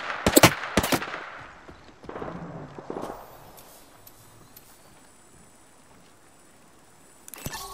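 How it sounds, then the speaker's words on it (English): Gunfire in Apex Legends: a couple of sharp, loud shots at the start, followed by scattered fainter cracks and low ambient game noise, then another quick shot near the end. "Shots fired at me."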